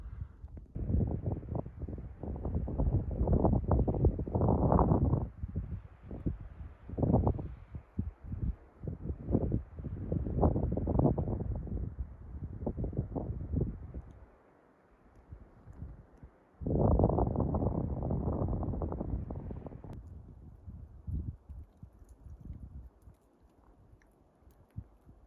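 Strong gusting wind buffets a solo backcountry skier high on snowy Mt. Thielsen, roaring loud and close in long surges with brief lulls, no voices.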